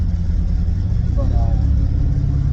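Car cruising at 50 mph with the engine around 2,000 RPM, a steady low drone and road rumble heard from inside the cabin, with a voice speaking over it.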